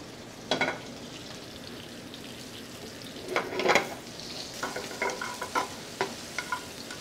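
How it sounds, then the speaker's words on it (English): Cabbage fries in an already hot skillet on high heat, with sizzling bursts and stirring scrapes that come in clusters of short, close, crackling hits. "pour it in this skillet that's already hot. And just put the cabbage right down in that. Put it back on high heat."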